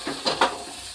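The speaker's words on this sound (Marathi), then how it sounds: "मिक्स करूया भाज्या सर्व." Vegetables for pav bhaji stirred in a pan with a spoon, a couple of quick scraping clinks over a faint sizzle, close and brief.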